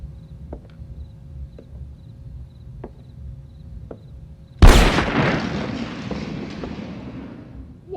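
A single loud gunshot from the 1985 crime thriller Blood Simple cracks suddenly after a quiet stretch of faint ticking, then a long reverberant tail slowly fades through the room.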